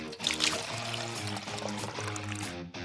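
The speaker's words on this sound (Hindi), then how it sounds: "पानी डालें और अच्छे से मिक्स करें।" Water poured into a mix of sugar and food coloring in a kitchen, a close steady pouring trickle with rising gurgling tones, over light background music.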